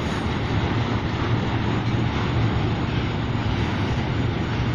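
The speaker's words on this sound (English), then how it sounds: "I'm going to be going back inside after this train goes by" Steady low rumble of a train rolling past, constant and moderately distant, with no voices.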